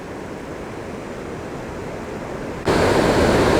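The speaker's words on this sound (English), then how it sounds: "here is the last waterfall" Steady, dense rush of falling water from a waterfall at Valley Falls State Park in West Virginia, continuous and broadband, growing noticeably louder and closer partway through.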